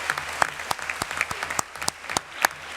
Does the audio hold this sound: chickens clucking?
no